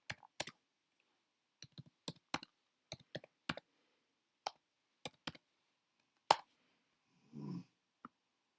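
Keys tapped on a computer keyboard while writing code, in short separated bursts of clicks and clacks with pauses between, close and fairly quiet, followed by a brief softer rustle near the end.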